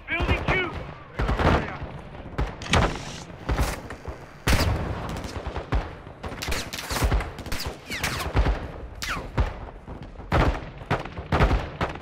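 Automatic gunfire from an RPK light machine gun in Call of Duty: Modern Warfare II, loud repeated bursts and sharp cracks in an intense firefight, with voices calling out between volleys.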